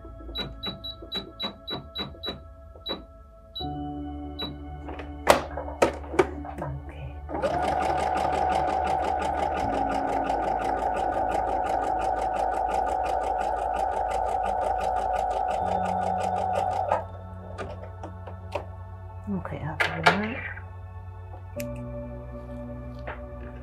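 A domestic sewing machine stitches fabric in several runs of varying length, each a close, steady mechanical whir with rapid clatter, separated by pauses, clicks and brief handling noises.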